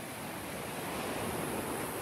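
Steady roar of surf breaking on Tigertail Beach, a continuous broadband wash with wind buffeting the microphone throughout.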